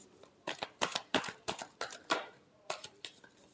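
Tarot cards being shuffled by hand, a quick series of about ten crisp riffling bursts in an uneven rhythm, close and fairly quiet, with no talking.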